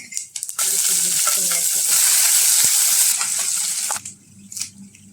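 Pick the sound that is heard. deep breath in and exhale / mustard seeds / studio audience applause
mustard seeds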